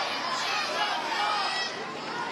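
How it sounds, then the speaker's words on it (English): The crowd at a 2019 Alabama vs LSU college softball game grumbles over a call, a broad, steady wash of murmuring voices with no clear words. "I think the crowd's complaining a little bit"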